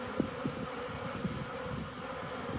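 Honeybees fly in front of a hive, a soft steady buzzing hum from several insects with individual bees briefly droning closer, faint and with no talking.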